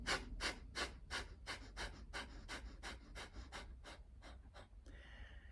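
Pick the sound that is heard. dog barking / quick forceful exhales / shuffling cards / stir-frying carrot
quick forceful exhales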